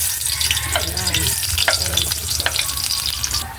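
Onions frying in a pan with a steady loud sizzle and occasional stirring scrapes, continuous throughout with no talking.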